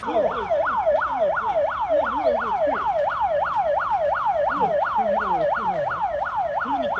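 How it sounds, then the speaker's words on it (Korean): Wailing sirens from fire engines and ambulances rising and falling in a rapid repeating cycle, loud and continuous, with a second siren layered underneath at times. "사이렌이 소방차들이 이제 뭐 통제하던가 그런 소리도 있고 구급차들이 되게 많이 다녔어요."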